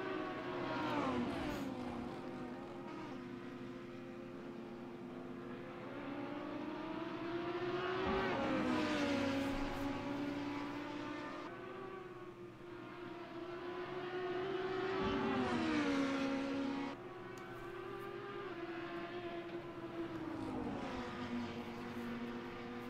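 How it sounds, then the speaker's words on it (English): Lamborghini race car engines in a sim racing game at Bathurst, continuous loud droning with rising and falling revs as cars accelerate and shift, several engines layered over about twenty seconds with no talk. "Leisure having a strong run there in 8th in the red line Lamborghini"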